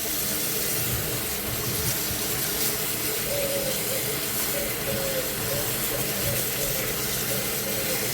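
Running tap water pours steadily over mung bean sprouts being washed, a continuous broadband splashing hiss with no pauses, heard close and fairly loud with no talking.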